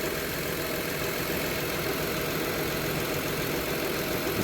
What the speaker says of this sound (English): It's starting to idle high too.